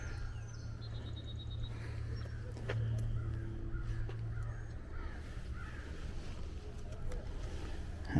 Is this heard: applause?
no